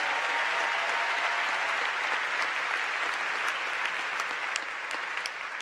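Sustained applause from a commencement audience at a Cal Poly fall ceremony, honoring music ensemble students; dense, steady clapping from a large crowd that holds evenly throughout and eases slightly at the end.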